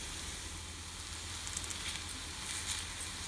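Spinach pakoda frying in a pan gives a steady close sizzle with soft crackles and occasional light stirring noises, alone without talk.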